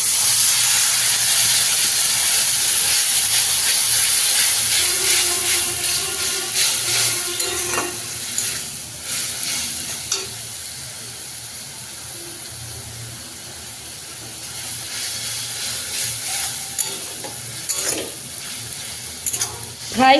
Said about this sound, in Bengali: ভালো করে কষাবো মশলাটাকে। সামান্য একটু জল অ্যাড করব।